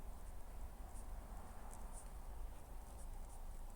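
Pen or chalk writing during a primary-school math lesson, a faint continuous scratching with small tapping strokes over a steady noisy room background, no talking.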